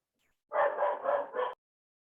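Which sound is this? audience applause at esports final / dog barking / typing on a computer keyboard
dog barking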